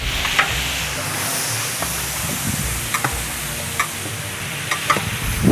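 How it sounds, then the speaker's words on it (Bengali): Raw goat meat fries in hot oil with a steady, close sizzle, broken by the scrape and clack of stirring every second or so. "আমরা কাঁচা মাংসটা তেলে ভাজে নিতেছি"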